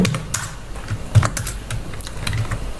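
Rapid, uneven clicking of keys on a computer keyboard as Python code is typed, close and fairly crisp, with a few heavier strokes and no voices over it.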